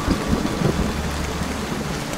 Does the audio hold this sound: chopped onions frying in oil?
no